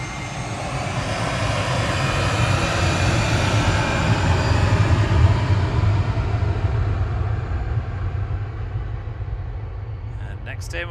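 An easyJet Airbus A320 Classic, registration G-ZOT, departs Manchester for Paris Charles de Gaulle, its engines giving a loud, steady broadband roar that holds for the whole stretch and tails off slightly near the end.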